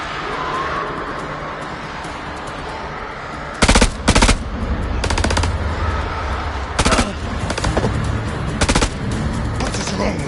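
Gunfire in the horror video game House of Ashes: several short loud bursts of automatic fire cut in and out over a dense, rumbling battle ambience.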